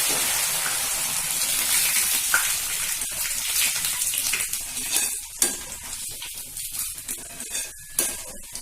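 Dried chillies (kan vathal) crackle and sizzle loudly in hot oil in a kadai, a dense close frying hiss with sharp pops and stirring scrapes that grow more uneven toward the end.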